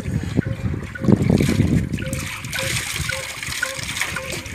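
Water gushes and splashes steadily from an old borewell outdoors, a close, continuous rushing spatter that stays loud throughout.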